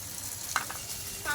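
Potatoes frying in a pan give a brief, steady sizzle with a single stirring scrape partway through, close and moderately loud.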